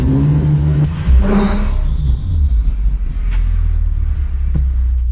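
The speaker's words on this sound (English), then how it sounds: "Let's see if it can do a two-wheel burnout." A budget drift car revs hard during a two-wheel burnout, its loud engine rising and falling in close, heavy bursts before settling into a low rumbling idle.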